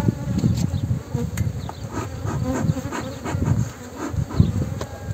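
Honeybees swarm around an open hive as frames are lifted out, a dense, steady buzzing hum close by with no voices.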